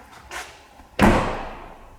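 An RV cargo door swings shut with one solid, close slam and a short ringing decay, after a lighter knock just before it.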